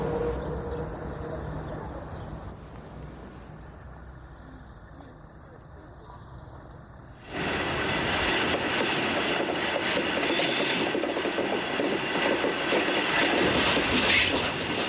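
A train on the Petite Ceinture railway line in Paris, a low distant rumble that turns abruptly into a loud, close roar with rattling wheels and squeal for the second half, with a voice talking over it.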